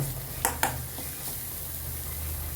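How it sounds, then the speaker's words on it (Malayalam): A steady sizzle of crushed coconut, green chilies and shallots frying in coconut oil after mustard seeds, with a couple of sharp clinks or pops early on, continuous throughout. "കടുക് പൊട്ടിയതിന് ശേഷം തേങ്ങയും പച്ചമുളകും ഉള്ളിയും കൂടി ചതച്ചത് ഇതിലേക്ക് ഇട്ട് കൊടുത്തു"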